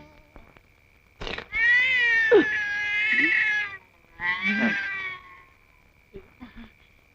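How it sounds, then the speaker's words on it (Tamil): A cat lets out two long, loud, drawn-out meows close up, followed by a couple of short, softer mews, with quiet gaps between them. "இது பூனை, இது கூட பரவாயில்ல."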